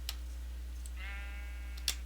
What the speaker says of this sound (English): there's some sheep way over here.